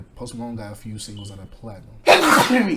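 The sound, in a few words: sneeze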